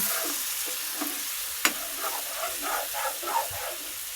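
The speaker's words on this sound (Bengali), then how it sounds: "ভালো করে কষে একটা তরকারিটা নামিয়ে নেবো।" A curry is stirred and cooked down in a pan, with a soft constant sizzle and scraping stirs, including one sharp clack of the spoon against the pan partway through.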